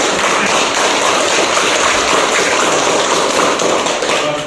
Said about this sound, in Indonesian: Sekali lagi tepuk tangan dulu ya.